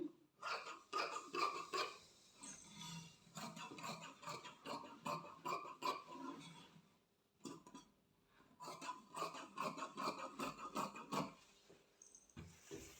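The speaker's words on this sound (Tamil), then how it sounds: "பாருங்கள் நான் இப்போது பேக் பீஸ் வெட்டுறேன்" Scissors snip through blouse fabric while the back piece is cut, making rapid rhythmic crisp cuts in two bursts separated by a short pause, close and fairly faint.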